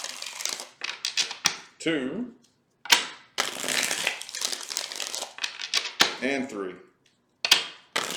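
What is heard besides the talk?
shuffling tarot cards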